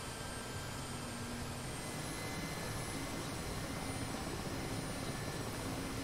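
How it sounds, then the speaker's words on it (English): Mi-8 helicopter engine running up in the DCS flight simulator: a steady, dense turbine roar and whine that fills the whole clip at a constant level, with no voices. "Alright, right engine's starting."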